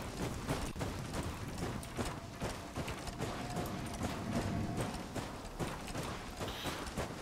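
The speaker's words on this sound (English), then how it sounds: "Sounds like one of those old sewing machines." A clattering in-game mechanism in the survival game Fade to Silence, rattling like an old sewing machine, with a fast, steady run of clicks and knocks that holds at an even level throughout.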